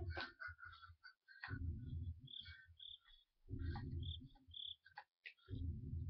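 Crickets chirp in quiet, scattered bursts in a Slender horror video game, broken up by brief low thumps and rumbles.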